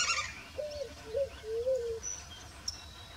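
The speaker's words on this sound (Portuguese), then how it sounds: "esse canto me chamou a atenção. É o pica-pau de topete vermelho." A red-crested woodpecker, a female, calls several times in short, slightly rising whistled notes, fairly faint against a quiet outdoor background, with a few higher chirps near the end.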